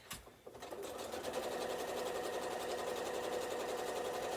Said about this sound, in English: I don't usually sew quite this quickly